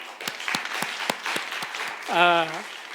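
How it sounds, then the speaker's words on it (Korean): Applause from a young adults' Sunday church service congregation, starting as a few separate claps and thickening into a steady patter, with a voice rising in the middle toward the end. "다시 한번 박수 한번"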